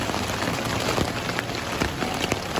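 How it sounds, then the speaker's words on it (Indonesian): Heavy rain drums steadily on a camping tent pitched on a bike-camping trip to Kalimati, a dense close patter with scattered louder drops hitting the fabric throughout, no speech. "titik-titik atau bintik-bintik air hujan yang jatuh di atas tenda ya"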